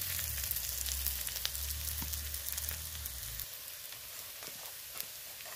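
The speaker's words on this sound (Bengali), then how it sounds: "তারপর পেঁয়াজ রসুন আমার ভাজা হয়ে গেছে।" Onion and garlic fry in hot oil for a taro and spinach dish, giving a steady, close sizzle with scattered crackles over a low hum that stops partway through.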